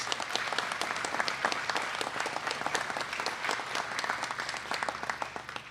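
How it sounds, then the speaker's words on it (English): An audience at a regional food bank event applauds steadily for several seconds, a dense continuous patter of many hands clapping at moderate volume. "Give our farm industry a nice round of applause, please."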